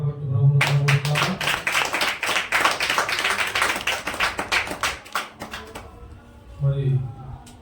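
A congregation at Christmas worship claps in a fast, steady rhythm for several seconds, loud and close, with a voice heard briefly at the start and end.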